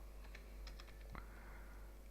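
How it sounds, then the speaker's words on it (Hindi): A date being typed on a computer keyboard, a few faint, soft key taps spaced out over a steady background hum with no talking. "एक डेट टाइप कर रहा हूँ मैं"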